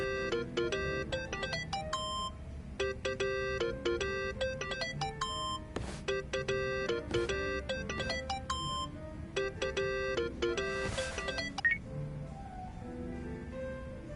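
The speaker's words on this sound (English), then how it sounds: "Think that's your phone, man." A mobile phone rings inside a farming-simulator video game, a melodic ringtone repeating in steady bursts over quiet background game audio, with a couple of brief clicks.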